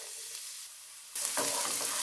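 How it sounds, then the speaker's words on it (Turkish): Onion hits hot oil in a pan with a sudden surge of loud frying hiss partway through, followed by bubbling crackle as it is stirred, close up and without speech. "Isınan yağın içerisine kuru soğan ilave ediyorum. Karıştıralım."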